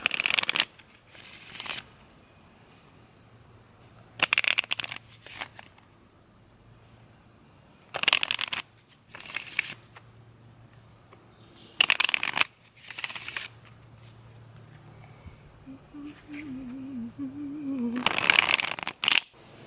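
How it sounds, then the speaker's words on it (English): Oracle cards are shuffled in several short, crisp bursts separated by pauses, close and clear, with quiet background between riffles. "I'm going to just shuffle these and see what comes up."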